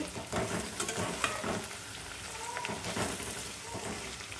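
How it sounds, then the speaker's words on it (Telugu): Sliced eggplant frying with already-browned onions in a pan, a soft continuous sizzle with stirring scrapes and light crackles throughout. "ఇలా వంకాయలు వేసుకొని ఫ్రై చేసుకోవాలి"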